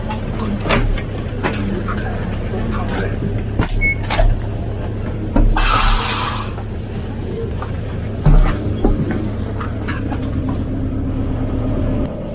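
An airport bus in Japan drives along with a steady low engine drone and road rumble, punctuated by clunks and a brief hiss of air, heard from inside the cabin.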